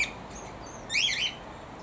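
Pet cockatiel lets out a few bright chirps, one brief call at the start and a louder warbling burst midway, close by in a quiet room.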